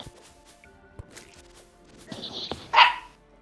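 A dog in the Terraria video game barks a few short times through a multiplayer session, the brief yelps rising near the end over quiet game clicks.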